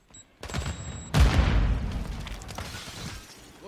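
Grenade blast followed by bursts of rapid gunfire in Call of Duty: Modern Warfare II, a sharp loud boom after a brief opening crack, then dense sustained shooting fading slightly with no talk.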